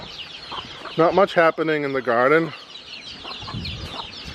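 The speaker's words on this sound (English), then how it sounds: "We got chickens everywhere." Chickens clucking in a garden at a house building site in the Philippines, with a loud burst of close, rhythmic clucks in the middle, fainter bird sounds around it, and someone talking briefly at the end.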